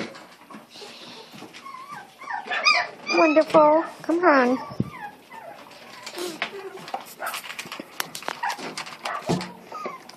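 Miniature beagle puppies whimper and yip in a rapid run of high, wavering cries, loudest midway, while someone talks encouragingly nearby.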